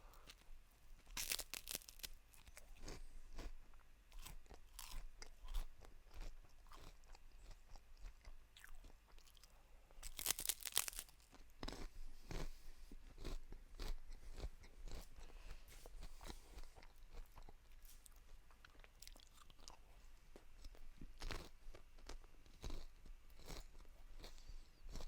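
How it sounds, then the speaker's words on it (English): Crunchy snack being chewed close to the microphone, with irregular crisp crunches and bites scattered over a quiet background, some sharper bursts standing out, no talking. "I hope it's not too much crunchy sound. I just felt like snacking."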